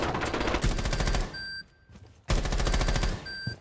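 Automatic gunfire in Rainbow Six Siege: loud, rapid bursts of shots, a short pause, then another sustained burst, with no talking.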